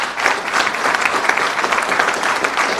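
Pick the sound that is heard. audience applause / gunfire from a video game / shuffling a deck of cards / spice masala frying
audience applause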